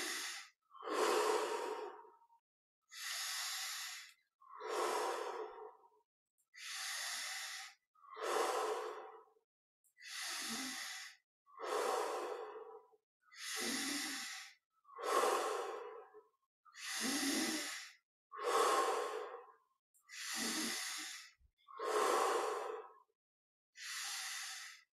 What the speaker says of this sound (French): on prend une respiration profonde